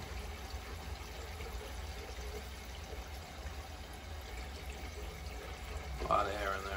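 Water rushes steadily through a purged heating zone of a two-zone gas boiler with a monoflow system, a continuous low flow that swells briefly near the end, with a voice present.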